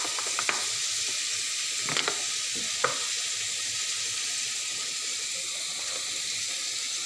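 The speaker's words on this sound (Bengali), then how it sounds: "জিরের ফোড়ন দিয়ে দিলাম।" Cumin seeds crackling in hot oil in a kadai, a steady soft hiss with a few sharp pops and stirring clicks early on, fairly quiet and close, no talking.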